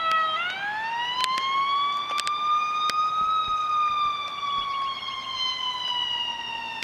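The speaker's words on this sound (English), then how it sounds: "That's an ambulance, that ain't no cop." An ambulance siren wails loud and close outdoors, one long rising and sustained tone that sweeps past, alone with no talk.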